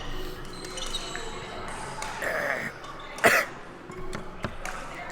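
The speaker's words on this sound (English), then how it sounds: "Have a cough though." A single sharp cough stands out near the middle, against faint background talk and murmur at a women's university sports match.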